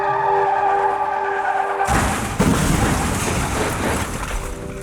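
A truck crashes, rolling over and sliding off the road: a steady engine hum gives way to a sudden loud, sustained roar of scraping, skidding and grinding debris that stays close and harsh to the end.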